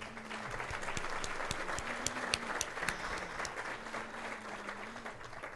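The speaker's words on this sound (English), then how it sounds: "We give them a big round of applause for their service" Audience at an economic summit applauding elected officials, a steady wash of many hands clapping that carries evenly through the whole stretch, with a few sharper claps standing out and faint murmuring beneath.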